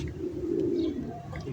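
Pigeons coo in a low, steady murmur inside a pigeon loft, a soft continuous warble close by with a few faint chirps above it and no talking.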